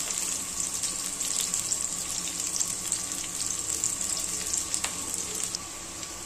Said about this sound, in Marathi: आता हे पहा एकदम छान अशी मिरची परतली गेली आहे